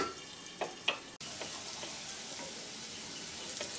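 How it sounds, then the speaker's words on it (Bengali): Potatoes fry in oil in a covered pan, giving a steady broadband sizzle with a few brief clicks and stirring knocks near the start and one short sharp break, then continuous even frying. "এখন আলুগুলোকে বাদামি করে ভেজে নিচ্ছি। একটু ঢাকা দিয়ে ভাজছি"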